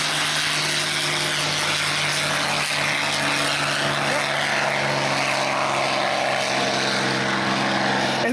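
A P-51C Redtail Mustang propeller fighter at an air show drones steadily with a loud, continuous engine roar and airscrew hum, broad and sustained throughout with no speech.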